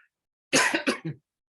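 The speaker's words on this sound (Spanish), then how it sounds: "Disculpen ahí la tos." A single short cough bursts out in a few quick hacking pulses, close and fairly loud, with silence before and after.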